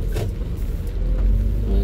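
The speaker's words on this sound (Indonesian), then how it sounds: "macet padat merayap." Traffic crawling bumper to bumper through a rain-soaked street in Batam, a steady low vehicle rumble and engine drone close by, with idling cars and a faint whirr like a power window; no one speaks.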